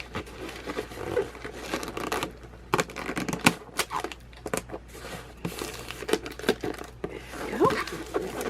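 Packing tape being pulled off the roll and pressed onto a cardboard box for an eBay shipment, with repeated sharp ripping and crackling bursts in irregular spurts, close and moderately loud.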